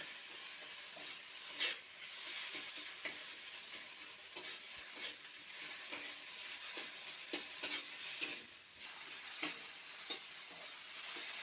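Mashed gatkol leaf paste is stirred in a frying pan, with repeated scraping strokes at an uneven rhythm over a soft, continuous sizzle, close up and with no voices.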